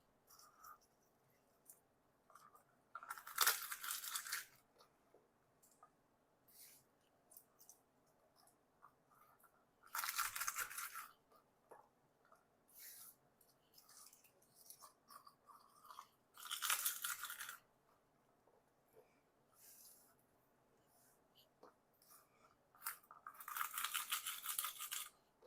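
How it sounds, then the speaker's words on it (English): A small garlic roller works garlic cloves out of their skins in a home kitchen, giving quiet bursts of rough crackling and scraping, three or four short rolls separated by near silence. "I have a little garlic roller here, and that makes pretty easy work of taking it out of the jacket."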